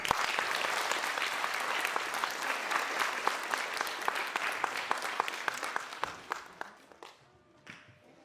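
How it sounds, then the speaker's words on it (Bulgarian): A school celebration audience applauds its teachers with loud, dense clapping that holds steady for several seconds, then thins into scattered claps and dies away. "Моля да ги поздравим с аплодисменти."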